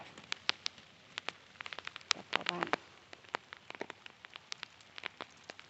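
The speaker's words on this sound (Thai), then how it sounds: "ฝนตกแล้วจ้า" Rain falls as scattered, distinct drops pattering on a surface at moderate distance, with a brief faint voice in the middle.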